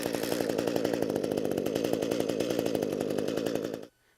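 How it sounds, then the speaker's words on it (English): An ECHO gas hedge trimmer fires up after a recoil pull, and its small two-stroke engine runs in a loud, rapid buzzing pulse for about four seconds before cutting off abruptly. "So I simply have to pull the recoil 1 to 2 times and the unit will fire."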